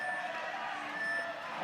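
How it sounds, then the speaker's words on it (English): A five-second warning buzzer sounds at a climbing competition, a steady sustained electronic tone held through the moment, loud over a diffuse background of crowd and arena ambience. "He's going to hear the 5-second buzzer in a minute."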